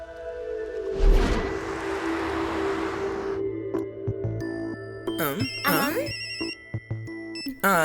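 A phone ringtone plays, a repeating electronic melody with bright warbling tones, preceded by a whoosh and a sustained hum.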